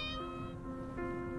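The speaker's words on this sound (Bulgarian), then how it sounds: "А, тя ми говори. Мяу." A cat in a video game gives a short, clear, fairly soft meow and then a second drawn-out tonal mew, close and alone without talk.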